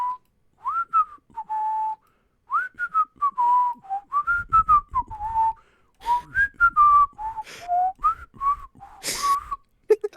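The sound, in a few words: whistling in Yakuza 3 video game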